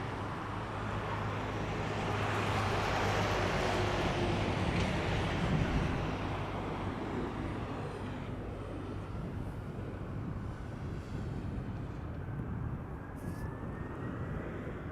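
A United Boeing 767-300 departs Schiphol bound for Chicago O'Hare. Its jet roar is loud and steady, swelling over the first few seconds and then slowly fading, with no voices.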